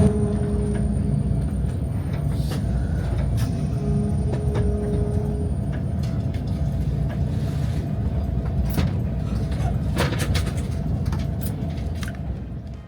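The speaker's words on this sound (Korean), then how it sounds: "반대편에는 저희보다 앞서가야 하는 KTX 산천이 병주하고 있네요." A KTX high-speed train runs on a Korean line near Daejeon. From inside, a steady low rumble and rolling hum continue without a break, with faint rattles and clicks scattered through it.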